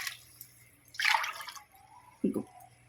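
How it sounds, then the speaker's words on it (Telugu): Water poured into a cooking pot while making mutton biryani, coming as two short, close splashing pours separated by a quiet pause. "ఏం కాదు, నీళ్ళు పోసుకుందాం."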